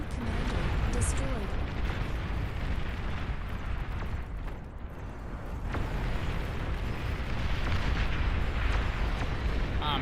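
Explosions in a strategy video game as an enemy commander unit is destroyed, a dense, continuous rumble of booms and blasts filling the scene, loud and sustained with a short lull midway.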